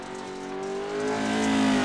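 Pro 2 Lite off-road race trucks lapping at Wild West Motorsports Park, engines droning steadily with a rising whine as the pack accelerates, a loud continuous roar from close by without any talk.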